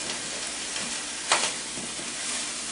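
Sun-dried tomatoes and other vegetables sizzle steadily in a hot frying pan, a close, even crackle with one brief louder stir or scrape midway, no voices.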